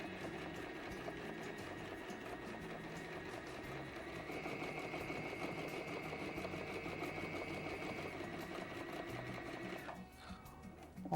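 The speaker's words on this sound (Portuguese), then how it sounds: "Então vamos lá para a máquina. Então, ó, vou costurar em cima da linha tracejada" A sewing machine stitches a kimono along a dashed line, running in one steady, close mechanical whir that changes pitch partway through and stops near the end.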